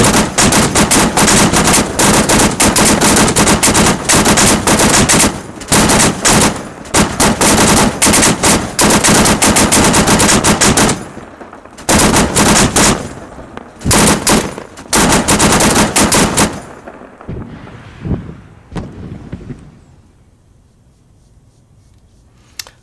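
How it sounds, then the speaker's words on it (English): Light machine guns firing on a base in the video game Arma 3, loud sustained bursts of automatic fire with brief pauses, tapering to sparse shots and near silence at the end. "the guys here have actually commandeered these LMGs and are firing in onto the base"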